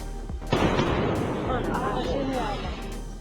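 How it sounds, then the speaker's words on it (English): Sonic boom from a supersonic aircraft, a sharp booming blast followed by rumbling, rolling noise that fades over a few seconds, loud and echoing. "This is a sonic boom,"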